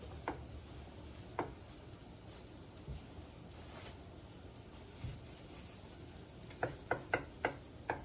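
Knife slicing ingredients for homemade fried rice on a cutting board: a few soft isolated cuts early, then a quick run of five or six crisp, evenly spaced chops near the end over a low background hum.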